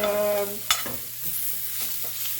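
Beef steak sizzles in a hot pan with butter and sage, steady close frying hiss with a soft clink near the start and a faint hum beneath.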